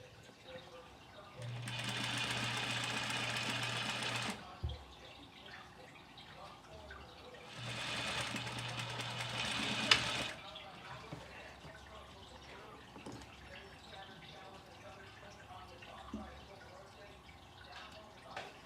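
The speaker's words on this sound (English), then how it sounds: "So right here, I will back stitch before I go forward." A sewing machine back stitches through a washable face mask in two steady bursts of a few seconds each, separated by a short pause, with a low motor hum under the rapid needle clatter.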